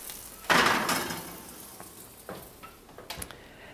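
Grouper sears in a hot pan, a sudden loud burst of sizzle as the fish is flipped that fades into a quieter crackle, followed by a few light scrapes and taps of a utensil.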